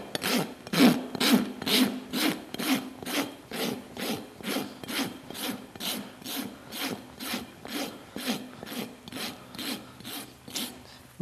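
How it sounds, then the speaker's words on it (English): A rasp files a horse's hoof during barefoot trimming, giving a steady rhythmic scraping of even strokes, close and moderately loud throughout. "just create a rock or a roll in the foot with the rasp"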